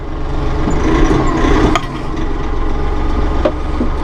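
Diesel engine of a 2016 Massey Ferguson 1736 compact tractor with auto throttle, a steady loud rumble with a slight rise in revs early on and a few faint clicks and knocks.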